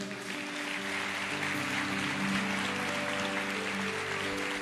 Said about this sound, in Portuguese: Eu peço que a igreja dê uma salva de palmas ao Senhor